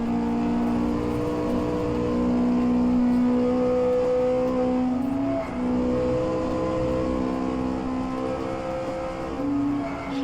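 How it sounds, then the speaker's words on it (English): A Lotus Cortina engine in the rFactor2 racing game, held high and revving near redline with a steady, droning whine that wavers slightly as the pitch rises and dips, loud and continuous with no talk. "I'm revving the ring out of it, and I'm redlining it most of the time."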